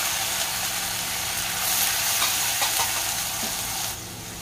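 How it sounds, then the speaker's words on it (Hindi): Finely chopped onions added to hot oil with crackling whole garam masala spices, a loud steady sizzle and hiss with faint stirring scrapes, close up and without talk. "हल्का कलर चेंज होने तक इसे फ्राई कर लेंगे"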